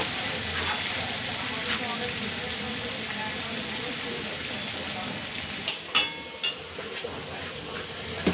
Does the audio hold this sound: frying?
yes